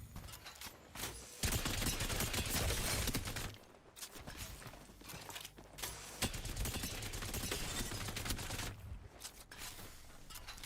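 Hip-fire gunshots from a controller in a video game, long bursts of rapid automatic fire with short pauses between, loud and close, with scattered footstep-like clatter and no talking.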